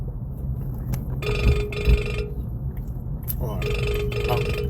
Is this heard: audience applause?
no